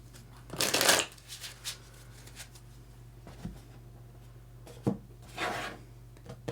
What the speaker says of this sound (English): I'm going to grab 3 more cards